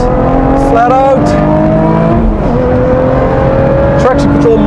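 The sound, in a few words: Lotus Evora GT430 engine accelerating on a wet track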